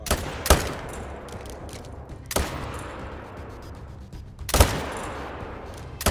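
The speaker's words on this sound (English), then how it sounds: "We're going to shoot him from here." Three loud gunshots ring out a couple of seconds apart during a hunt in a survival video game set in the Alaskan wilderness, each a sharp crack trailing off into a rumbling echo over steady outdoor ambience.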